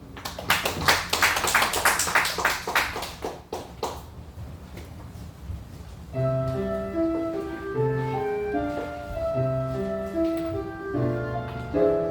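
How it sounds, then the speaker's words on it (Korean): Congregation clapping during a church worship service, a dense burst of hand claps for the first few seconds that thins out as an instrumental accompaniment begins and carries on alone. "박수 한번."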